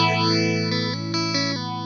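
An electric guitar chord rings through a Positive Grid Modulation Twin pedal with a sine wave LFO, its tone sweeping smoothly up and down in a chorus-like wobble, with chord changes partway through.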